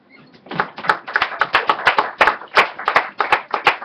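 A church congregation claps rhythmically in unison during worship at a Bible seminar, a close, loud, steady beat of roughly three claps per second.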